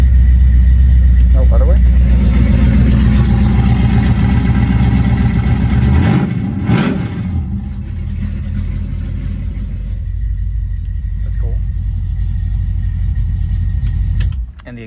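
A 1969 Mercury Cougar convertible's engine, started after sitting for a while, runs loud and close with a deep, steady rumble and a brief rev in the middle. A person speaks briefly over it.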